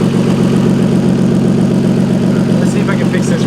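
Car engine with a top-mount turbo kit idling steadily and loud up close, with a continuous rhythmic exhaust puffing and hiss from a leak near the turbo; a faint voice briefly comes in near the end.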